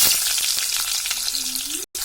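Onions sizzle and fry in hot oil for vegetable pulao, a steady broadband crackle with a few soft stirring knocks, close and loud, cutting out briefly near the end.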